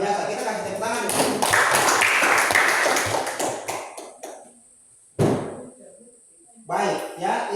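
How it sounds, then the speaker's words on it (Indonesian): Classroom applause after a student group presentation, a burst of dense clapping from many hands lasting several seconds, then fading to scattered claps and quiet, followed by a short second flurry. "Kita kasih tepuk tangan dulu."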